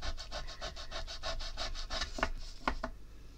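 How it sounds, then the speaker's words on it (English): Tombow Mono sand eraser rubbing back and forth on card stock: a close, steady series of rapid scratchy strokes, finishing with a few sharper isolated scrubs. "It's a sand eraser from Mono, Tombow Mono sand eraser."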